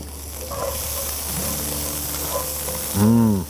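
Chopped onion dropped into a hot pan over medium high heat after sausage, giving a steady bright sizzle and hiss that swells louder near the end.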